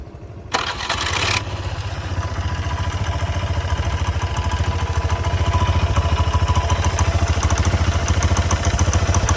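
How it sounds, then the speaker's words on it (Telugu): A worn Honda Activa scooter engine, heavily smoking and in poor bore condition, cranks with a short burst and then catches into a steady, loud, rhythmic idle that throbs nearby for the remainder, with no talk over it. "బండి స్టార్ట్ చేయనైనా"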